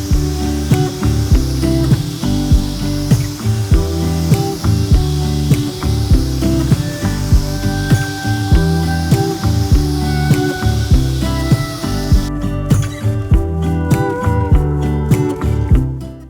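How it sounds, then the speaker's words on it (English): A paint sprayer applies polyacrylic to wooden IKEA-hack built-in cabinets, a loud steady hiss with a rhythmic pulsing motor underneath, close up and without talking, cutting to a quieter passage near the end. "then we did the same thing with polyacrylic, also using the same paint sprayer"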